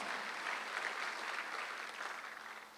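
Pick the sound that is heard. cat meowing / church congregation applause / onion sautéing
church congregation applause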